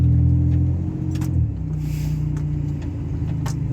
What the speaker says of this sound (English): The vehicle runs okay.